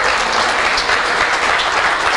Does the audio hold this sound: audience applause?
yes